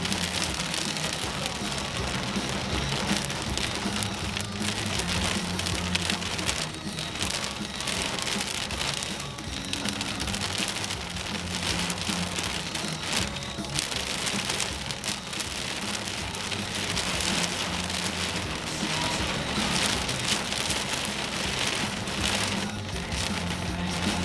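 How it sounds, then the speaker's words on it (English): Heavy rain pours down during a storm in southwestern Saskatchewan, a dense continuous hiss and patter on surfaces, loud and steady throughout with no speech. "It's raining so hard."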